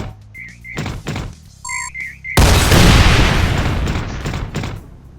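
Grenades that double as proximity mines in the game Alpha Division 3.0: a few short thuds and beeping chirps from the device, then one loud close detonation with a long rumbling, crackling tail.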